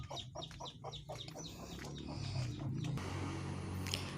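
Native village chickens cluck and squawk nearby in a short burst of farmyard calls, with steady background noise and no talking.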